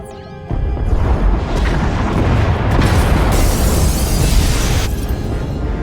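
In the Star Wars: The Old Republic game, pod bays are destroyed with a massive explosion that erupts suddenly after brief quiet, then keeps roaring and rumbling loudly as a continuous blast for several seconds.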